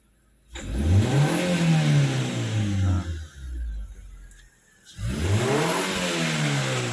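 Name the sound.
car engine revving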